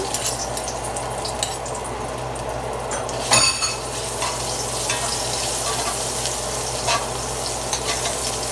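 Steady sizzling of spices frying in hot oil, with a brief clatter of a utensil stirring partway through; close and continuous, no voices.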